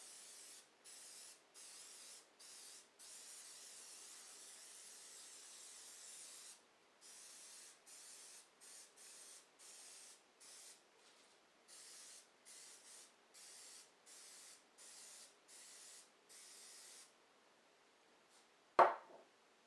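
Short hissing bursts of cooking spray from an aerosol can onto a muffin tin repeat in a steady rhythm, near and quiet, ending with a single clack.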